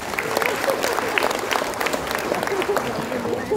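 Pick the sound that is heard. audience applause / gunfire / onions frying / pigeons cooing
audience applause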